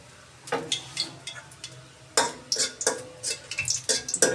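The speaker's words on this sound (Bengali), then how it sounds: "তেলের মধ্যে দিয়ে দিলাম দুটো শুকনো মরিচ" Two dried red chillies frying in hot oil for tempering lentils, heard as uneven bursts of crackling and pan scraping that come close together, with quieter gaps in between and no talking.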